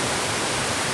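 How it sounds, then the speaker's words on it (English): Three-tier waterfall at Dabanggre village in West Garo Hills, Meghalaya, roaring as a steady, dense broadband wash of falling water, loud and continuous with no voices. "it has 3 layers of waterfall"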